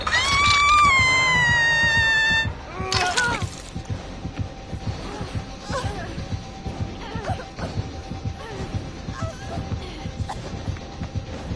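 A cat in a video game lets out a loud, drawn-out rising meow, followed by a sudden crash and then scattered softer game noises and clatter.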